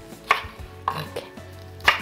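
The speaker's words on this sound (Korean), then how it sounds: "마지막에 요거 송송 썰어가지고" A knife slices green onions on a cutting board for a shrimp risotto, making four or five crisp, close chopping taps spaced irregularly over about two seconds, with no talking.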